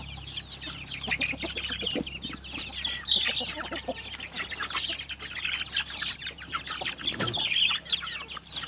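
Chickens being fed cluck and chatter continuously nearby, with scattered sharp squawks and some rustling, a busy flock sound at moderate volume.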